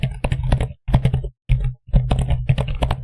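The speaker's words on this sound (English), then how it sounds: "I bought myself a new keyboard." Someone types quickly on a new computer keyboard with big buttons, producing loud, close bursts of deep clacky keystrokes in rapid runs broken by short pauses, with no talking.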